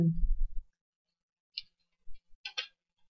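Computer mouse clicks, a few isolated sharp ticks spaced apart, quiet and close, after a brief low thump at the start, with no talking.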